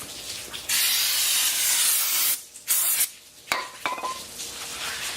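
Brake cleaner sprayed onto Miata brake parts: close, loud hissing bursts, one long blast followed by several shorter ones, with faint metallic handling sounds between them.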